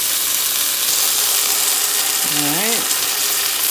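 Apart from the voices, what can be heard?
garlic sizzling and being mixed in a pan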